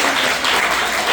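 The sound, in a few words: audience clapping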